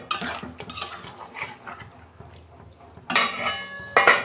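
Chicken being stirred and sautéed in a metal wok, with scraping and clinking spatula strokes in uneven bursts, a louder flurry near the end.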